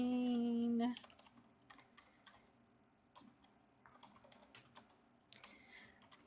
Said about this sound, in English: And I just would type it all out here and then type out over here and over here.